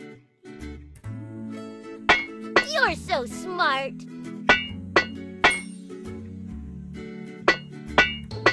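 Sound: hammer leveling dents on a truck, video game

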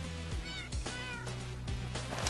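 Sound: cats meowing in the video game Minecraft

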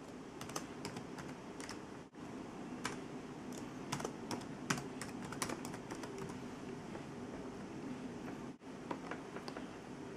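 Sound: typing a new password on a computer keyboard

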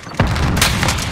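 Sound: grenade explosion in a video game (ShootHouse)

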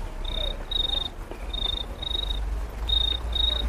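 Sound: beatboxer imitating a cricket chirping

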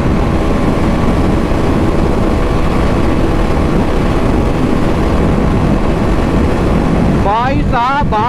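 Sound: 250cc motorcycle engine accelerating

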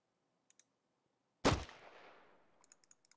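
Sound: gunshot in the video game Jagged Alliance 2

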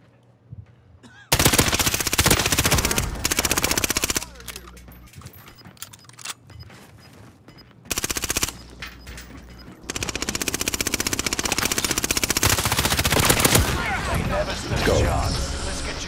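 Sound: gunfire in a video game

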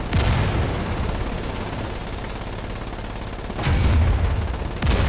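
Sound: mortar and gunfire in video game Foxhole

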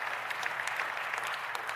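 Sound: audience clapping

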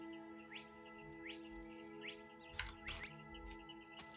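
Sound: birds singing at night

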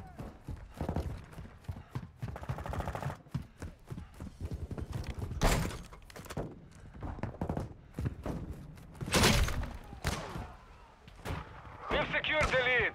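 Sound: gunfire in video game Modern Warfare 2

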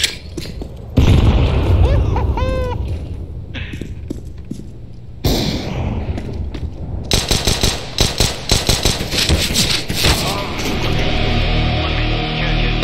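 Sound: grenade explosion in a video game

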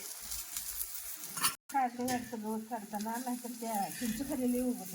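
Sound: rice flour thalipeeth roasting in oil on a pan

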